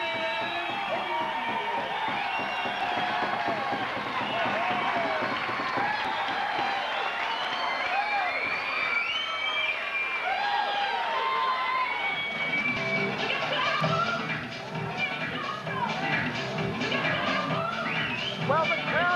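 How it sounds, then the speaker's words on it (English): A crowd at a kickboxing night cheering and whooping for a new East Coast lightweight champion, a continuous loud roar with clapping, under an announcer's amplified voice. "the crowd have gone absolutely crackers"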